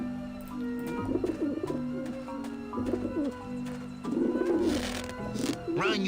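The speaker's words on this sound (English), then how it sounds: "Run, you pigeons!" Pigeons in the video game Grim Fandango give repeated soft, throaty coos in overlapping bursts over a steady music bed.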